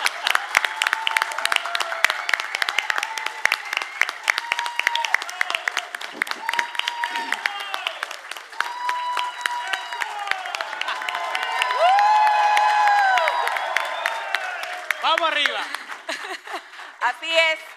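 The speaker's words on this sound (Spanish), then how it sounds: "Pues párense y démosle un aplauso a nuestra estrella." A crowd at a political support rally stands and applauds, sustained clapping and cheering mixed with shouts and laughter, while people talk over the noise and music-like tones rise and fall.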